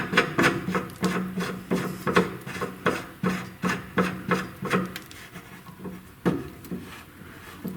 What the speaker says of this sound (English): that just pretty much allows us to thread our knob on here